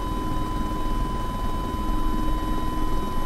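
A Mi-24P Hind attack helicopter in the DCS World flight simulator gives a loud, constant rotor and turbine roar with a steady high whine, with no voices over it.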